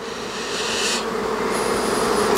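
A honeybee swarm at a nucleus hive makes a dense, steady buzz close by, with a higher-pitched whine of individual bees rising and fading over it.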